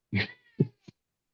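A domestic cat meows three times in quick succession, a long close cry followed by two shorter ones, clear against a quiet background with no talk.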